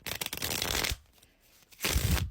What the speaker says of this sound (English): So I pulled the deck out, I went to shuffle it